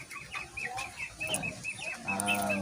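Broiler chickens, about 45 days old, cluck and peep close by while pecking at feed, with a rooster-like call near the end, and no speech over them.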